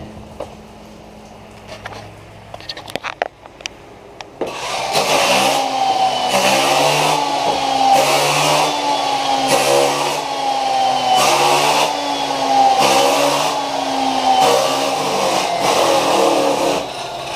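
An angle grinder fitted with a brand new disc grinds the surface of a 40-year-old surfboard, a loud, close, steady whine that starts after a few handling clicks and pulses rhythmically as the tool sweeps back and forth.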